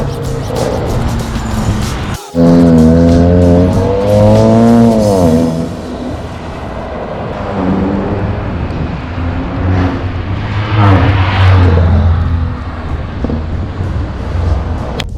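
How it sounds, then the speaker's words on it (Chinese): Modified Ford Focus ST Wagon with its OPF removed, its exhaust rising in a loud, close rev that swells and falls, followed by lower engine drone and further blips, with people chatting quietly around it. "因为它本身排气的声浪，我觉得蛮好听"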